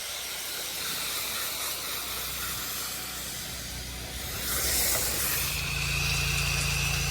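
Steady, loud hissing spray washing a house's siding outdoors, a pressure-washer drone running continuously with a low engine hum beneath, swelling louder midway.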